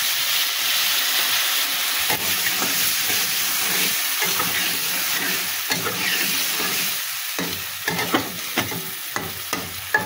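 Vegetables fry in spices in a home kitchen pan with a steady loud sizzle, while a spoon stirs and scrapes in sharp, irregular knocks that grow more frequent toward the end.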